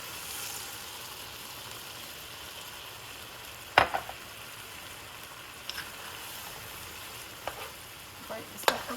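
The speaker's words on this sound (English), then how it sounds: "That's what you're looking for, that sizzle." Egg and tomato stir-fry sizzling in a hot pan, a steady hiss of frying with a few sharp crackles and spatula scrapes near the mic, no talking.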